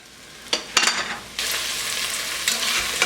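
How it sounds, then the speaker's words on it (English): Onions dropped into hot oil for peperonata, a few sharp clatters as they land, then a sudden loud, steady sautéing sizzle that fills the rest of the moment, close and alone. "add our onions into this. Let these saute down"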